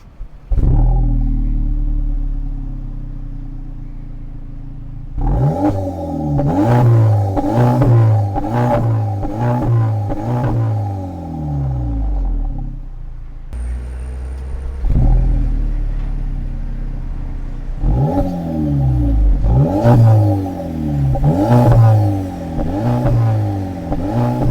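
Two Volkswagen Polo GTIs, a 2021 model and a 2024 facelift, idle and then rev in bursts, their engines climbing and falling through several sharp throttle blips, loud and close, separated by a brief pause.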